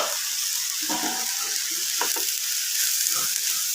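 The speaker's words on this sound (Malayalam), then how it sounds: "നമുക്കിത് ഒന്ന് ഇളക്കിയിട്ട് കൊടുക്കാം" Vegetables cooking in a pan are stirred, with an even sizzle and scraping, clattering stir strokes near the middle and end, close and alone.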